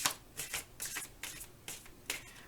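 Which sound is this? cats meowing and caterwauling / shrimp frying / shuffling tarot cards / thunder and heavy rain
shuffling tarot cards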